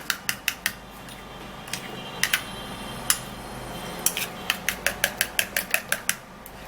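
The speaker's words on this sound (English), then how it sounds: "Now after putting that in, then you can give it a stir." Egg white face mask mixture is stirred in a bowl, a rapid run of sharp, evenly spaced clinks of a utensil against the bowl, pausing midway then resuming in a quicker regular rhythm.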